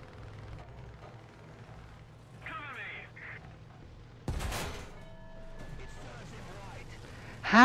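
Gunfire aimed at an AMX-10RC armoured car in War Thunder. A low engine rumble runs underneath, with scattered shots, then a sudden loud burst midway and a sharp, loud blast at the very end.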